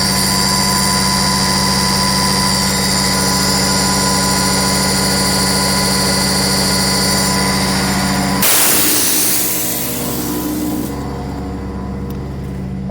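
A fire engine's pump runs hard after about fifteen minutes of heavy pumping, giving a loud, steady mechanical drone that holds throughout. Partway through it shifts to a brighter, hissing roar, then settles back to the engine hum.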